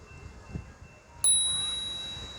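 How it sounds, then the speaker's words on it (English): A single bright ring of a second bell fitted to a Brompton folding bicycle, close and clear, its metallic tone lingering and slowly fading after a few faint taps. "See, that one rings longer, nicer bell"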